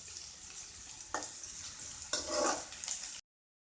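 Onions sautéing in a pan for egg tomato curry: a steady close sizzle broken by two louder bursts of stirring and spatula scraping, ending abruptly in silence.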